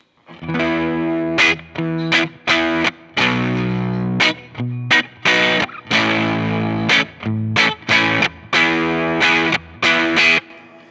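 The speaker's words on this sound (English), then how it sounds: "This is what the Falcon sounds like through the more clear sounding Deluxe reverb" Electric guitar through a distortion pedal and a Fender Deluxe Reverb amp plays a series of punchy, overdriven chords with short gaps between them, loud and close, with no voices.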